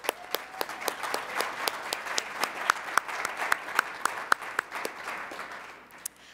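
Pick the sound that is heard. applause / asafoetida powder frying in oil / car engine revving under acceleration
applause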